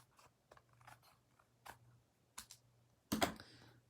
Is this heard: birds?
no